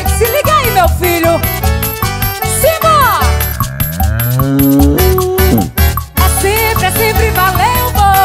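Cow-like mooing tones rise over loud forró music with band instruments in a São João acoustic performance, several drawn-out moos blending into the song.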